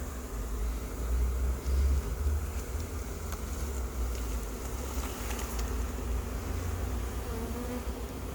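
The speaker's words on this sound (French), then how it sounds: "ça c'est sûr qu'il y a encore des abeilles" A swarm of honeybees being recovered in Villeneuve-Saint-Georges drones in a continuous, thick buzz, with many insects humming close by and no voices over them.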